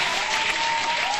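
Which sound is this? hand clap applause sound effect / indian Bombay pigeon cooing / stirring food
hand clap applause sound effect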